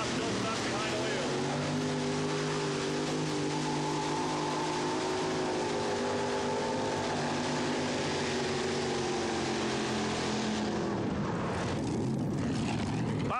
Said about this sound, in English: Let's see what the Wild Child can do with Bob Jostock behind the wheel.